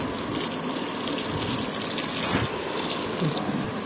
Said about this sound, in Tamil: நம்ம தண்ணியை ஊற்றி மிக்ஸ் பண்ணிக்கலாம்